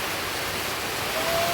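Floodwater rushes through a flooded chicken yard where Dalagang Brahma hens are kept, a steady, dense broadband hiss that holds evenly throughout with no voices.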